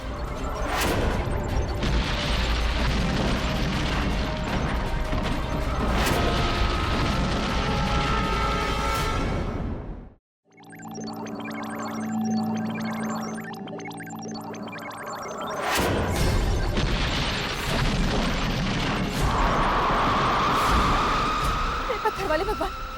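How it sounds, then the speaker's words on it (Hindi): A spaceship taking off with a huge boom: a loud, sustained roar that cuts out abruptly around the middle, leaving a quieter tonal hum, before the heavy rumble surges back for the final stretch. "टेक ऑफ का इतना बड़ा धमाका"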